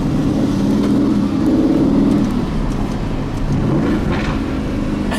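Brand new Aston Martin Vantage engine revving, heard from inside the cabin as a loud continuous roar that rises and falls with throttle, with broadband road and wind noise throughout.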